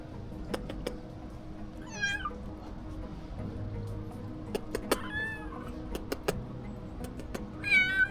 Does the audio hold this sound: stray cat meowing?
yes